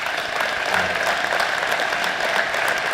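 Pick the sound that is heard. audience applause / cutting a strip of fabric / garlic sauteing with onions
audience applause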